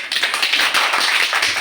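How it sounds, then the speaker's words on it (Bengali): A classroom of children claps together, a steady bright patter of many hands lasting under two seconds, close and loud with no talking. "সবাই একটা হাততালি দেন।"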